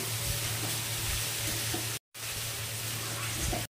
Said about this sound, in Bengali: করে চালটাকে নাড়াচাড়া করে নিচ্ছি